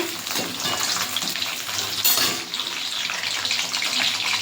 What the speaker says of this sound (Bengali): কড়াইতে, কাজুটা একটু ভেজে নেব।